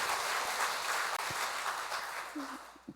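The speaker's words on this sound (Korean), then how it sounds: "근데 이 체험에 비해서 박수 소리가 굉장히 좀 작으신 것 같아요." Modest, fairly quiet applause from a church seminar audience, a steady wash of clapping through the whole stretch that thins slightly toward the end.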